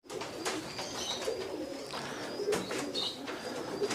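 Paired pigeons on a rooftop loft coo repeatedly, soft throaty rolling calls close at hand, with light chirps and rustling and no talk.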